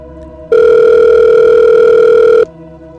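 A loud, steady telephone dial tone sounds alone for about two seconds as a call is being placed, starting and stopping abruptly.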